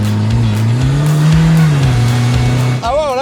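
Citroën C15 van fitted with a NOS kit accelerating hard, its engine note rising and falling loudly and close, with a pitch sweep near the end and voices talking over it.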